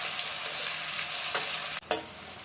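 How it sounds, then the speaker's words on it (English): Three large onions frying in a pan for mutton rogan josh, a constant close sizzle broken by a couple of spatula scrapes and a brief sharp clatter near the end. "fry these onions until golden brown"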